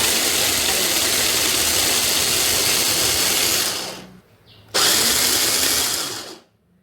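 Electric mixer grinder blending ingredients into paste in a home kitchen: a loud, steady whirring motor roar runs for about four seconds, cuts off briefly, then runs again before stopping.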